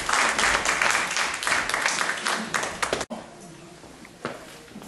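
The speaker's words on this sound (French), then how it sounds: "Applaudissez pour lui." An audience at a community gathering claps in a loud burst of applause that cuts off abruptly, followed by quieter room sound and a few scattered claps.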